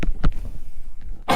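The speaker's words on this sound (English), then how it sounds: "I gotta clear my throat" A short, rough throat clearing up close, a couple of guttural bursts followed by a sharper cough-like rasp at the end.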